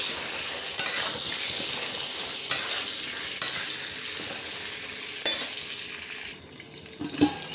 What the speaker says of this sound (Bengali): এবার পটলটা ভাজতে দেবো।